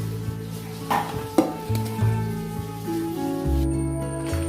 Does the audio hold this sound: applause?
no